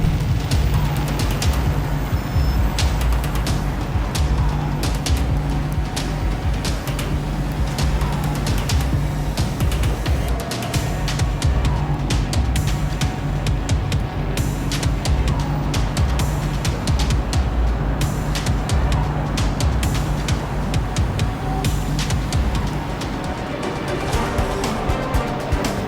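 A car running a hot lap, its engine droning loud and steady for the whole stretch without a break.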